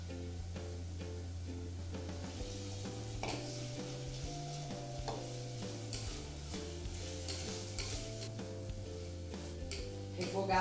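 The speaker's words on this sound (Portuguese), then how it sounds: "Agora que já tá devidamente refogada a carne seca com a cebola" Dried shredded beef and onion sauté in a pan with a soft, steady sizzle and occasional stirring scrapes, heard faintly beneath background music.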